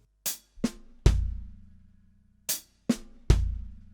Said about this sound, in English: I can substitute the second left on the snare drum for a kick.